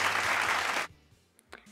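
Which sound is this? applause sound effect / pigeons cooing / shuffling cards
applause sound effect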